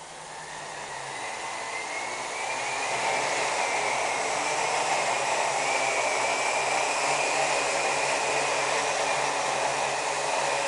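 A quadcopter drone lifts off a hard surface, its whirring rotors rising from a soft start to a steady, close, high-pitched buzzing hover with slight pitch drift.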